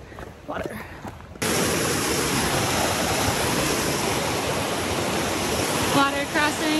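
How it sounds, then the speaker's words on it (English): Water rushing steadily at a stream crossing on a backpacking trail around Mount Hood in Oregon, a loud continuous broadband wash that starts abruptly after brief quieter movement and persists to the end. "Water crossing."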